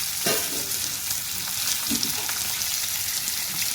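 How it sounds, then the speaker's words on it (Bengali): Prawns with poppy seed sizzling in a pan for a simple Bengali curry with dried fish and jackfruit seeds, a steady broadband fry with a couple of soft stirring scrapes early on. "পোস্ত দিয়ে দিচ্ছি চিংড়ি মাছগুলো দিয়ে দিলাম"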